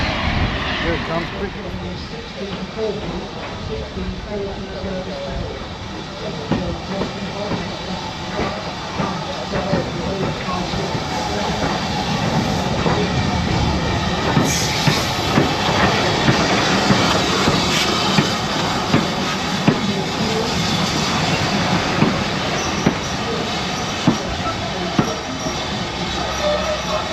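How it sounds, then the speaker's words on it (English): A train pulls into a station on a holiday trip in Dorset, a long steady rumble of engine and rolling wagons building over nearly half a minute, fairly close and loud throughout, with people talking nearby. "spin you around and you watch the train come in."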